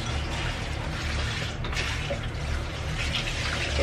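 Cold water runs steadily from a tap while dishes are washed, a continuous close splashing rush that holds an even level throughout, with no voices.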